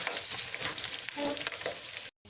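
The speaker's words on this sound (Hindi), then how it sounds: "इसी घी में हम जो हमारे पास प्याज पड़ा है वो हम फ्राई करेंगे" Onion sizzling and frying in hot ghee for chicken karela, a steady close crackle with faint stirring that runs unbroken before cutting out abruptly near the end.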